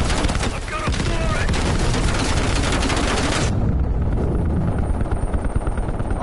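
Dense, continuous gunfire and battle noise from the video game Call of Duty Black Ops Cold War, loud and unbroken throughout, with the high crackle dropping away partway through.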